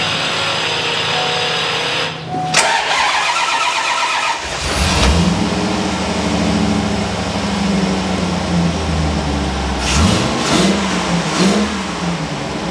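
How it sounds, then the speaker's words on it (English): Chevrolet Corvette C4 ZR1 engine cranking and catching indoors in a barn, then settling into a steady idle with a couple of blips of revving, loud and close with no talk over it. "So fingers crossed that Vince's car starts normally again now"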